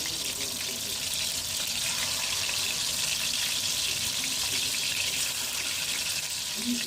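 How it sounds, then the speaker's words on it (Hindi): Gola kebabs frying in oil over low heat, a steady hissing sizzle that stays even and continuous throughout at moderate level. "अब इसको फ्राई करेंगे।"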